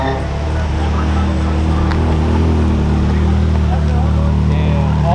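A Ferrari's engine drones steadily and loudly at a street takeover with burnouts and donuts, a continuous close-up rumble with people talking over it.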